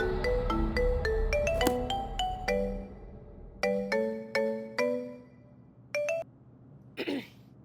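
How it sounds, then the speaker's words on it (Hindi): A phone rings at a women's police station in a Hindi TV drama: a bright melodic ringtone plays a run of quick notes, then shorter bursts with pauses between them. "एक ही रिंग में फोन उठा लिया तूने"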